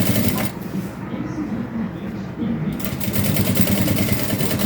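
A sewing machine stitches the seam of a crossbody bag, running through lining and main fabric in a steady continuous whir with a short pause midway, close and moderately loud.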